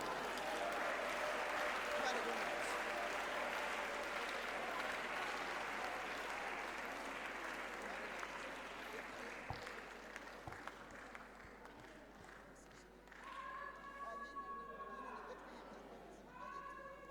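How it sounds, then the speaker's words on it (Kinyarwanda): A church congregation claps loudly and continuously during a worship service, the applause gradually thinning until a voice talks and sings over the fading clapping. "Komera Yesu amashyi mushimire"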